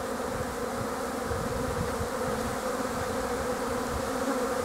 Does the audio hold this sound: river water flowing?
no